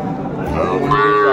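A Mundi-breed cow gives a loud, close moo that rises and holds, amid the chatter of a busy livestock market.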